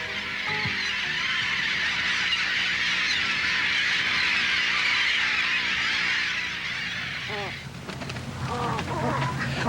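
Dense chorus of migratory waterfowl and honking geese over a coastal marsh on Bald Head Island, a continuous overlapping clamor that grows sparser near the end, where a few individual calls stand out close by.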